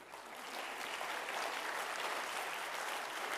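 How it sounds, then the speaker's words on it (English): Audience applause for the scorekeepers at an evening academic bowl competition, a fairly quiet wash of clapping from a crowd that rises quickly and holds steady throughout. "You can give them a round of applause"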